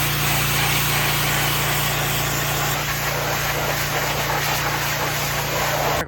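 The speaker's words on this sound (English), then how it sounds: "That pressure cleaner does miracles. I'm deaf, but it's worth it because it's clean." A pressure washer blasts an old Chevrolet C10 truck clean with a loud, steady hiss and motor drone that runs without a break, close up and harsh, cutting off abruptly at the end.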